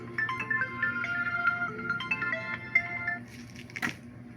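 A phone rings with an incoming call, playing a repeating electronic melody at moderate volume before it cuts off, followed by a brief sharp crack.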